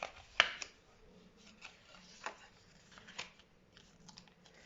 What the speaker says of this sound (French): Ensuite, vous allez bien marquer vos plis.